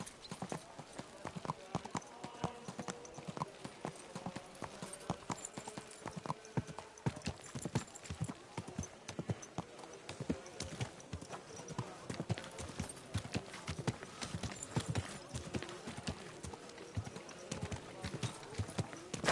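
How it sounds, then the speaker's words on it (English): Horse hooves clip-clop steadily in the video game Kingdom Come: Deliverance 2, a close, brisk rhythmic walking beat, with a brief whinny and some talking over it. "What's that with that horse?"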